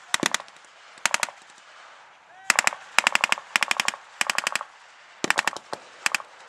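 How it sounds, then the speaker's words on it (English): World War II battle gunfire exchange, rapid machine-gun bursts in repeated clusters of sharp cracks, loud and close, separated by brief pauses. "an exchange of fire commences"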